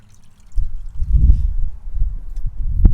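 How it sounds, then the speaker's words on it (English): Water running and trickling in a backyard pond with turtles and fish, a soft continuous low flow with a couple of brief splashy swells, close by and with no one talking. "I like to come out here and listen to the water running."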